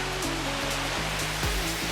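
Kooi waterfall in the Royal Belum rainforest of Malaysia, water pouring steadily over rocks as a continuous broadband roar, with a few low rumbling shifts underneath.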